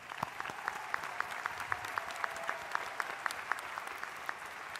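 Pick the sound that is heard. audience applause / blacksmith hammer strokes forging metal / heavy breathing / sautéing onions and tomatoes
audience applause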